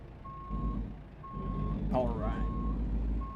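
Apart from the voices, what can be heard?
truck reversing beeps in a driving simulator game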